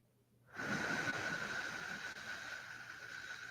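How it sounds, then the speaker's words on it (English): A long, slow breath pushed out near the microphone, a steady breathy hiss that starts abruptly and holds for about three seconds without a pause. "And when you breathe out long,"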